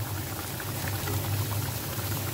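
Pabda fish simmering in a tomato gravy, a steady close bubbling and sizzling that holds level throughout, with no talk.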